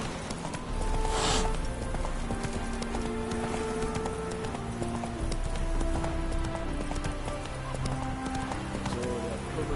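Hooves of Roach, the horse in The Witcher 3, beat in a quick, steady gallop up close, running under a bed of soft background music.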